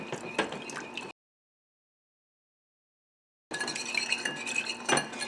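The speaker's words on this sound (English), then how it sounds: "you want to whisk all this together" A whisk stirring salmon sauce with salt in a bowl, with close clinking and scraping strokes in two bursts separated by a stretch of complete silence.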